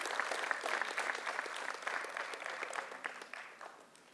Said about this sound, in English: A big round of applause for all the 10 teams, ladies and gentlemen